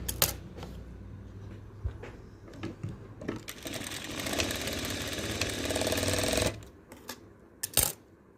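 A sewing machine stitches fabric pieces together for a frock nighty, a sustained whirring run in the middle framed by scattered clicks and handling knocks before and after, close and moderately quiet.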